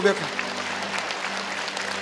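A church congregation claps in welcome, a dense, steady patter of applause throughout with voices mixed in beneath it.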